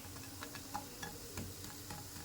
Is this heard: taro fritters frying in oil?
yes